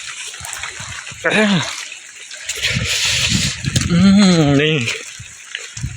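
Water is scooped and splashed out in repeated bailing strokes, close by, with people talking over and between the splashes.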